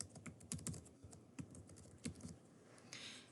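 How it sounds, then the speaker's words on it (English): Keystrokes clatter on a computer keyboard in short bursts of clicks with pauses between, fairly close and moderately quiet, with no voices. "She's going to type in a title"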